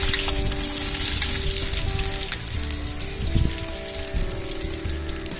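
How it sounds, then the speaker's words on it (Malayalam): Chopped ginger and garlic sizzle and crackle in hot oil in a pan for Arabic-style chicken majboos, a steady close frying hiss with scattered pops and a faint background hum. "ഇതിലേക്ക് നമ്മൾ ഇഞ്ചി അരിഞ്ഞ് വെച്ചതും വെളുത്തുള്ളി അരിഞ്ഞ് വെച്ചതും കൂടെ ഇടുകയാണ്"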